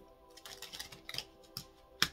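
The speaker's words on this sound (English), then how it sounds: "I'm gonna continue to shuffle" A deck of tarot cards is shuffled in soft, irregular bursts of papery riffling and light taps, close and quiet, ending with a sharper snap, with no talking.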